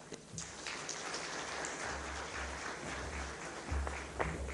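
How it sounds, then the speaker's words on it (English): A business breakfast audience claps for the governor, a dense patter of applause with low rumbling handling noise underneath. "Can I get a bigger round of applause for the governor,"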